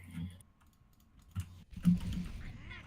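A handful of separate taps on a computer keyboard's number keys, quiet and spaced apart in a calm room.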